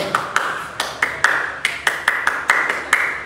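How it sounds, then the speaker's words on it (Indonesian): A scout group at a Pramuka camp opening at a vocational school claps in the patterned Pramuka rhythm, sharp nearby hand claps falling in repeating groups with short pauses between them. "Coba tepuk pramuka dulu."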